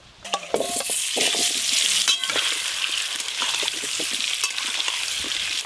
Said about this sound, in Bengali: এবার আলুগুলো লাল লাল করে ভেজে নেব।